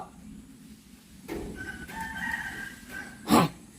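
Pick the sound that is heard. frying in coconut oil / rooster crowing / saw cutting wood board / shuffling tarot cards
rooster crowing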